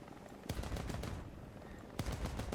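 AH-56A Cheyenne helicopter guns fire in a video game, two rapid bursts of machine-gun shots, each a dense rattle, with the second starting after a short pause.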